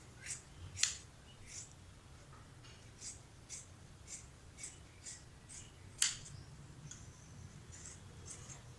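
Scissors cut through cloth for a nighty, using an old nighty as the pattern. A series of soft, crisp snips comes roughly every half second, close and fairly quiet.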